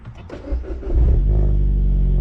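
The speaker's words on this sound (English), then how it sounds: "we're gonna start this sucker up" A 2013 MINI John Cooper Works GP starts up: a short cranking clatter, then the engine catches with a rev and settles into a loud, deep, steady idle close by.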